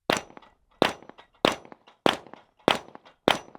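Six sharp pistol shots from a SIG P320 SXG X5 strike a steel plate rack in an even rhythm about every 0.6 seconds. Each crack carries a short metallic ring from the plate.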